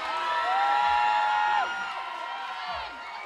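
A crowd at a climbing competition cheers and whoops, with a high sustained shout that swells and then fades, faint and distant.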